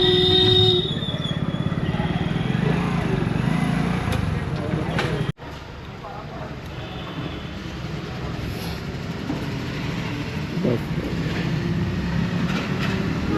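A motorcycle idles and runs at a petrol station in Rishikesh, a steady low engine rumble with traffic noise around it and a brief dropout midway.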